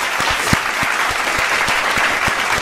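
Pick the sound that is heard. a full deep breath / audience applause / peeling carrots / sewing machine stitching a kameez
audience applause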